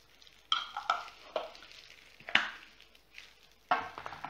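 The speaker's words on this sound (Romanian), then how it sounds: "și acum să amestecăm din nou" Cold-process aloe soap mixture being stirred in a container, several sharp scrapes and clinks of a utensil against the sides spaced irregularly between quiet stretches, close and alone without talk.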